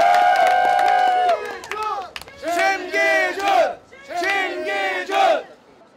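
Campaign rally crowd chanting and cheering in loud rhythmic bursts, several rising waves of shouted voices with some clapping, near and full.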